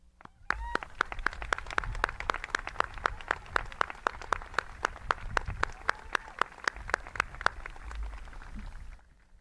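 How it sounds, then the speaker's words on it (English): At an outdoor high school graduation ceremony, steady, evenly spaced hand claps keep a brisk beat for several seconds over a faint murmur of the crowd before stopping. "That was Madame Goyette with that big cheer over there."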